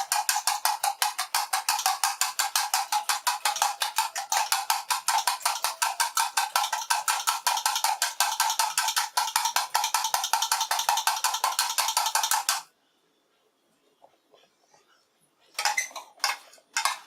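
Eggs are whisked by hand in a bowl, one at a time, as a rapid, even run of close metallic ticks for about twelve seconds. After a near-silent pause, a few short bursts of whisking follow.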